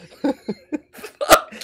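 A person coughing in a rapid string of short, sharp bursts, about six in a row with brief gaps, close and fairly loud.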